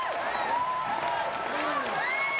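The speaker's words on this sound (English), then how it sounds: "supporters from every school here applauding Kristen Maloney with good reason" A crowd at Haas Pavilion applauds gymnast Kristen Maloney at a 2005 Pac 10 championship meet, a steady roar of clapping and cheering with shrill whistles arcing over it throughout.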